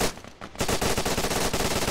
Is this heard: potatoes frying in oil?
no